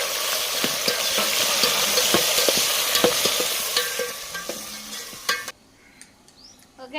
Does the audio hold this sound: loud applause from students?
no